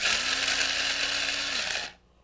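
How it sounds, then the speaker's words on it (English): Blade coffee grinder coarsely grinding coffee beans for French press: a steady, loud whirring buzz that holds for about two seconds, then stops abruptly. "We're going to use coarsely ground coffee, which is just perfect for the blade grinder."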